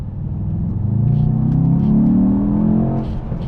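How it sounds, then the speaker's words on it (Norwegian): A Mercedes-AMG E63 S 4MATIC engine revs up steadily with exhaust valves open, a deep, throaty exhaust rumble, loud and close, rising in pitch then easing off, no voices. "Jeg setter også på full eksoslyd, da åpnes spjellene."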